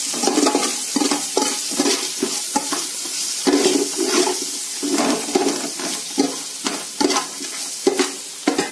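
A spoon scrapes in steady, rhythmic strokes as a spoonful of masala is stirred into a frying ginger-garlic paste mixture in a pot for prawn biryani, with soft sizzling beneath and no talking.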